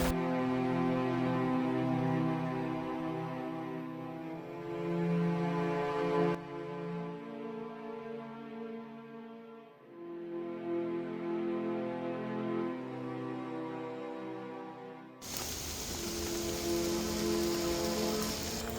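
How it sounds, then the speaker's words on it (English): Heavy rain pours down during a cyclone at a bush camp, a steady dense wash that continues without a break for the whole stretch, loud and close. "this rain's starting to really pick up"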